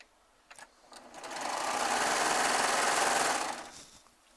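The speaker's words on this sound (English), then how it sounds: "I'm going to sew all of these together and cut off the selvages" A Baby Lock Triumph serger runs steadily for about two seconds, sewing fabric pieces together and trimming selvages, its fast whirring hum rising quickly, holding level, then winding down, with a few soft handling clicks before it starts.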